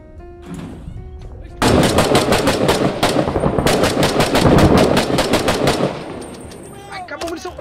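Rapid bursts of automatic gunfire in an online multiplayer shooter, loud and sustained for several seconds with a brief pause midway, then stopping abruptly as the firing runs dry.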